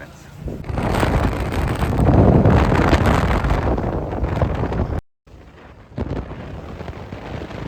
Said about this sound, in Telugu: బండి మీద వెళ్తుంటే గాలి మామూలుగా వేయట్లేదు